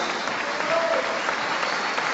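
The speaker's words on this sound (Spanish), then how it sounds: "Dele palmas al Señor." A church congregation applauding, a dense and even wash of many hands clapping together that holds steady throughout, with some faint voices mixed in.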